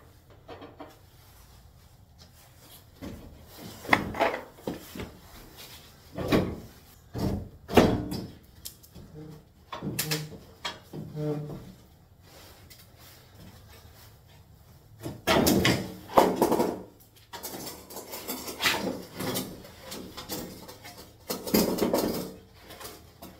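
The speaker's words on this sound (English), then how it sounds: "now I'm gonna remove that last nut and remove the bumper" Metal parts clank and knock as the last nut comes off and the rear bumper is pulled from a 2015-2020 Ford F-150, a series of irregular close bangs and rattles with louder clusters partway through.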